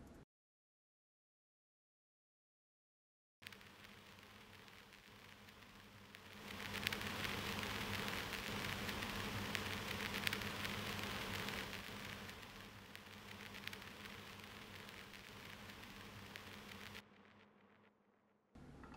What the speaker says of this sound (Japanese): ビニールアンプノイズっていうね、レコードのプツプツ音というかね、アナログ感を出して